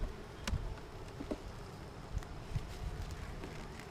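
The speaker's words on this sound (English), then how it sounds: "there's 2 solid frames of bees in here." Honey bees buzz faintly inside an opened hive box holding frames of bees, a soft steady hum broken by a few light knocks and wind rustle.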